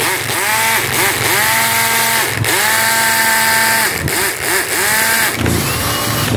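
A cordless impact wrench runs at its first speed setting with a loud, continuous, close motor whine that warbles and briefly dips a few times, with no talk over it.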